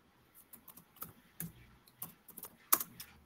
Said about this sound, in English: So I'll type that one.